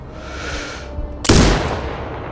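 A single loud, sharp sniper rifle shot in a shooting video game, cracking out after a low ambient rumble and trailing off into a short echoing tail.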